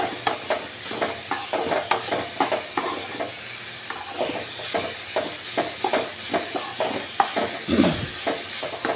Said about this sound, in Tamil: இப்போ தக்காளி காயை போட்டு நல்லா வதக்குங்க